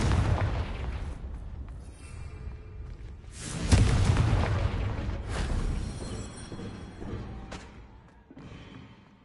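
A Confringo blasting spell bursts near a castle in Hogwarts Legacy, a loud booming explosion with a sharp broadband hit and rumbling tail, followed by lingering low rumble and smaller crackling bursts.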